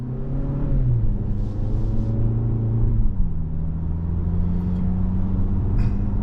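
A 2023 Toyota Camry XSE pulling out on the road, its engine a steady low rumble heard from inside the cabin, with pitch shifts as it changes gear and no talking.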